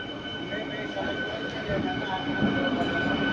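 A Shoranur–Kannur MEMU special train rumbles loudly and steadily at a Kerala station platform, its carriages rolling close by while people talk in the background.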